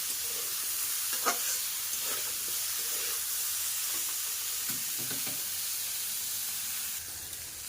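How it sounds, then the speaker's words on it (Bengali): Bitter gourd and potato pieces fry in a pan, a steady broadband sizzle with intermittent scraping stirs and clinks, close and moderately loud throughout, no voices. "উচ্ছের সাথে আলুটাকে বেশ লাল লাল করে একটু ভাজা করে নেব।"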